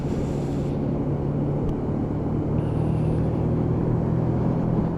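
A Lexmoto Michigan motorcycle pulls up through its gears on a cold, damp road, its engine giving a steady low rumble with brief tonal shifts at each change, close and continuous with no talk.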